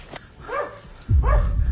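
A dog gives a few sharp, close barks in quick succession, with a louder bark near the end over a burst of low rumbling noise.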